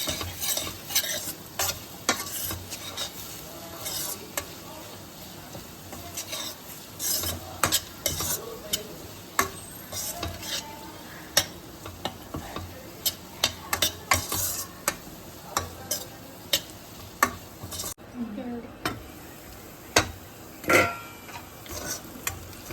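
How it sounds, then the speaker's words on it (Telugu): A spoon scrapes and taps repeatedly in a pan as seema chinthakaya, cluster beans, fry with ginger garlic paste, over a soft continuous sizzle. The sounds are close, irregular and without talking. "వేసి అడుగంటుకోకుండా కలుపుతూ ఉండాలి."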